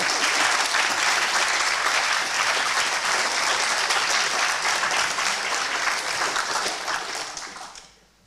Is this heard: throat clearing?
no